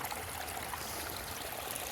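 A park fountain keeps up a steady, soft rush of flowing and splashing water, faint and even throughout with no voices.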